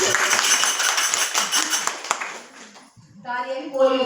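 Audience clapping at a devotional kirtan gathering, a burst of hand claps in a hall that fades after about two seconds before singing and music pick up.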